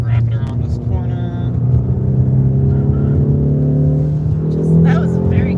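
Engine of a 2020 Mercedes-AMG GT 63 S accelerating hard after a kickdown from eighth to fourth gear, a loud steady low drone that swells and builds near the end, with cabin road noise throughout.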